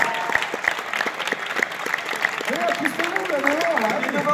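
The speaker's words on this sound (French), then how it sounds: "Alors, on peut les applaudir." Crowd applause at the Savoie Retro Games 2019 event greeting arriving guests, a steady patter of many hands clapping, with voices and a few whistles or cheers rising over it toward the end.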